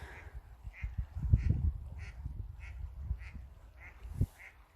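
A female mallard duck quacks by a river in a snowy landscape: a series of short, evenly spaced nasal quacks at moderate distance over a low outdoor rumble and a few handling bumps.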